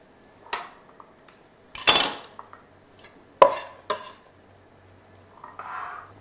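Chopped onion pieces are tipped into a small bowl, giving a few sharp clinks and scrapes of a knife or board against crockery, separated by quiet pauses.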